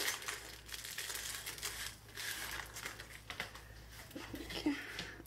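A plastic packaging bag around a mail-order item is crumpled and pulled open, giving steady close crinkling throughout while someone talks.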